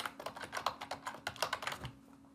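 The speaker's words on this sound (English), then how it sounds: "So I'll just be typing this over and over" Keys clatter on a computer keyboard in a quick, close, uneven run of taps that stops abruptly, with no voices.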